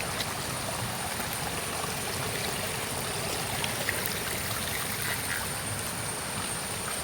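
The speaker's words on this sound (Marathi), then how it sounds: "धबधब्याचा गारवा आणि खळखळणाऱ्या पाण्याचा आवाज अधिक स्पष्ट ऐकू येऊ लागतो" Babbling water from Tambuli waterfall in a green Konkan forest, a steady, unbroken rush and trickle holding an even level throughout with no voices.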